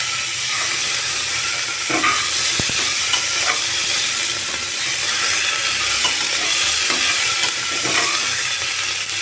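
Chopped tomato sizzles loudly with frying onions in a pan, a continuous hiss broken by soft scraping strokes as the mixture is stirred nearby, and nobody speaks.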